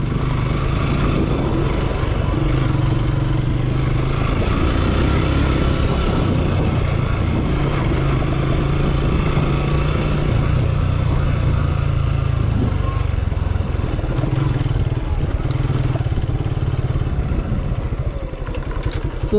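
A motorcycle rides along a road, its engine a loud, continuous close drone with rattling and wind noise throughout, no voices.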